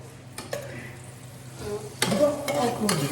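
Butter sizzles in a hot pan, a soft hiss that swells loudly about two seconds in, with scraping and stirring on top.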